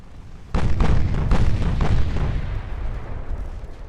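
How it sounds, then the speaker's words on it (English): A torpedo strikes a warship in the naval battle game Ultimate Admiral: Dreadnoughts, a sudden loud boom followed by a rolling series of heavy blasts and a long rumbling decay. "There's another torpedo hit, though"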